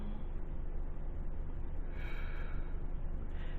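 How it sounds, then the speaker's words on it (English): Slow, deep breathing drawn in and released with concentration during a meditative practice, a steady close breathy hiss filling the clip with a sharper inhale or snort-like rush partway through, no talking. "So I'm breathing in very deeply."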